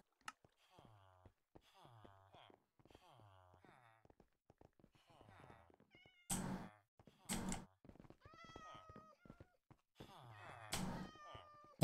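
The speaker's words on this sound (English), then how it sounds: "Only thing is you get an excessive amount of freaking cats." Several Minecraft cats meow in short repeated calls, some louder and closer than others, with faint game clicks and a few sharp bursts between them.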